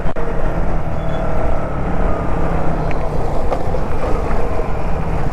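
A KTM Duke motorcycle's exhaust roars steadily at a coastal beach spot, with a loud, continuous rumble that holds level throughout and no talk.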